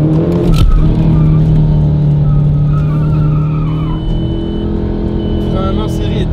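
A Volkswagen Golf 4 TDI skids and burns its tires, a loud sustained squeal with a strong steady tone over revving engine noise, close by, with people talking over it.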